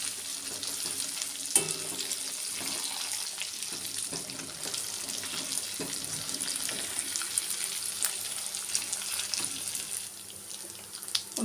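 Chicken 65 pieces marinated with ginger-garlic paste deep-frying in oil with curry leaves, giving a steady, fairly faint crackling sizzle throughout, alone with no talk.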